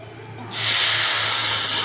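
Milk poured onto ghee-fried vermicelli for payesh sets off a sudden loud hiss that jumps in abruptly and holds steady, close and continuous after a brief quiet start.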